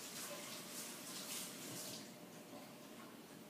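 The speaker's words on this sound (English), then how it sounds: "So let's give them a quick, nice little rinse." Tap water runs in a steady, faint stream as jalapenos and tomatoes are rinsed, a continuous splashing hiss with no talk.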